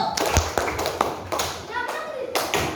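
Students in a vocational high school classroom clap on command, producing a few sharp hand claps scattered through the clip while voices talk over them.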